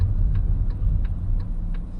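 A car's turn signal ticks in an even rhythm, five or six crisp clicks spaced about a third of a second apart, over the low rumble of the car's interior.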